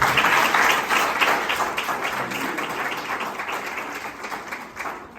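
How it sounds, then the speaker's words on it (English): An audience applauds at a business masterclass, a full, steady wash of clapping that is loudest at the start and slowly tapers off. "Give him a round of applause"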